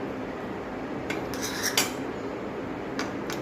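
A metal spoon scrapes and taps against an oiled dish several times while spreading khandvi batter, brief clinks and scrapes over a quiet background.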